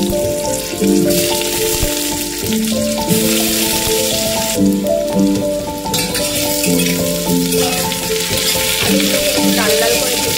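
Potatoes and two whole dry red chillies frying in oil in a home kitchen, a steady loud sizzle running through the clip with light stirring and kitchen clatter, no talk.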